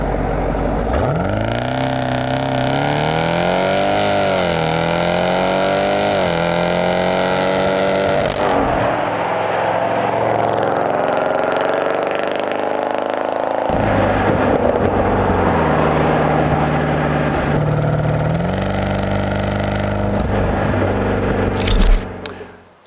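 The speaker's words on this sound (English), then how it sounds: "let's enjoy and listen to that beautiful exhaust sound" The deep modified exhaust of a Jeep Grand Cherokee SRT Trackhawk rumbles and revs repeatedly, swelling and dropping in pitch over a long stretch, loud and close, ending in a sharp burst.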